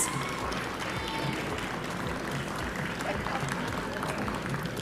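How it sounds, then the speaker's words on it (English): Audience applause for youth award winners at the Tobago Youth Awards 2023 ceremony, a steady, dense clapping that fills the whole stretch at moderate level, with no talk over it. "Round of applause again for all of our winners."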